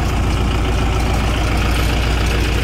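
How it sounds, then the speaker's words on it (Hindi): A Mahindra 585 DI XP Plus 50 HP tractor engine runs close by with a loud, steady, unbroken diesel drone and no one speaking. "बहुत ही जानदार आवाज़ इस ट्रैक्टर की।"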